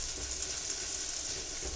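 Turkey meatballs sizzle and fry steadily in a hot pan as they are turned for browning, a close, continuous crackling hiss with no voices.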